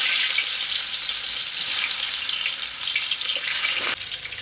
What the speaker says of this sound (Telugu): సన్నగా కోసుకున్న ఆనియన్స్ని నూనెలో వేసుకుందాం.